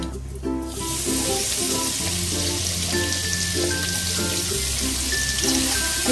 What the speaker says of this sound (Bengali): এবার আমি প্রথমে দিয়ে দেবো রসুন কুচি